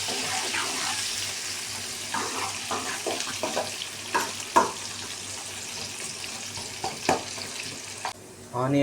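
Onions and green chillies fry in a pan with a steady, moderate sizzle, broken by irregular crackles and small pops, ending with a louder burst of hissing.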